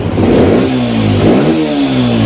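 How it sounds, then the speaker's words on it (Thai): A motorcycle engine revving hard up close, loud and rising in pitch, then dipping and climbing again in a second surge. "เร่งดีครับ เร่งหมื่นรอบขึ้นได้เลยครับ"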